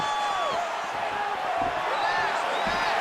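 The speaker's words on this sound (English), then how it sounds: "Crowd continues to sway with every huge shot being landed." A crowd roars and surges at a UFC fight in the EA Sports UFC video game, with a steady arena murmur swelling into whoops and cheers while a commentator talks over it.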